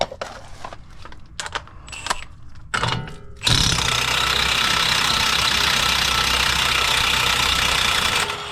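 A power tool, likely an impact wrench, removes the axle nut on a Ram 1500 during brake work. A few scattered clanks give way to a loud, continuous hammering rattle that lasts about five seconds, close and alone.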